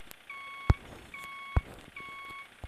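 A two-tone electronic beep in a truck driving video game repeats three times at a steady pace, each with a sharp click. Quiet background hum runs underneath.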